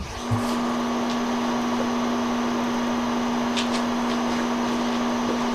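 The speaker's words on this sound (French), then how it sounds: "Le bruit que vous entendez, c'est le bruit de soufflage." A continuous mechanical whir of a Creality Ender 3 V3 SE 3D printer's cooling fan blowing steadily, with a constant hum and a few faint clicks, close by and unchanging.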